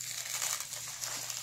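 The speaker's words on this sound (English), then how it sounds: "we're just going to rip it open because it doesn't want to open" Crinkly crumpling and tearing of a cardboard subscription box's packaging, ripped open by hand, close up and steady, with no voices.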